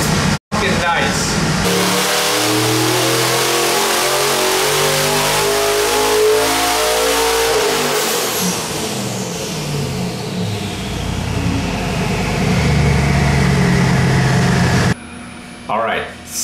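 Twin 60 mm turbocharged 6.2 engine with a small hydraulic roller cam, running on pump gas on a dyno, revs hard and loud in a sustained pull that rises in pitch, then cuts off near the end.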